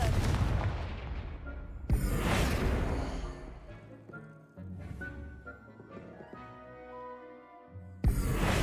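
A Confringo fire spell cast in the Hogwarts Legacy video game bursts out in loud booming blasts, one at the start, another near two seconds and a third at the very end, each followed by a rumbling decay and shimmering magical tones.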